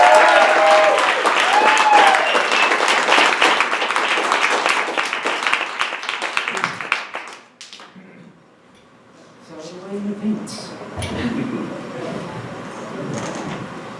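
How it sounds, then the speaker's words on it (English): An audience applauds a performer at an improv storytelling show, with loud, dense clapping for about seven seconds before it fades out, followed by quieter room noise and brief voices. "Let's give a big round of applause"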